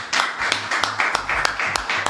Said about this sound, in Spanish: Nuestras palmas se disponen para recibir con un fuerte aplauso a Felipe Piña.